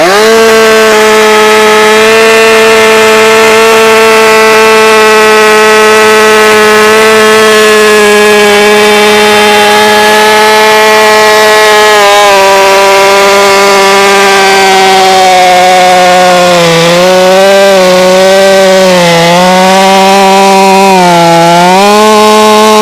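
Stihl MS462 chainsaw cutting chestnut oak hardwood, a very loud, close, sustained high-revving whine that holds steady before wavering up and down as the cut finishes.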